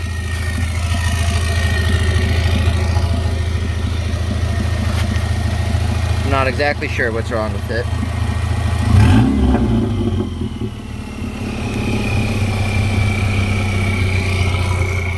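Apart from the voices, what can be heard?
1992 Subaru Legacy turbo engine idling and revving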